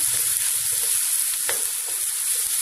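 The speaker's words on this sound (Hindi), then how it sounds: "3 बड़े टमाटर मैंने लिए हैं, उनको मैं हल्का सा फ्राई करती हूँ" Three large tomatoes sizzle steadily in a hot pan, a dense continuous frying hiss with a few faint stirring scrapes and no voices.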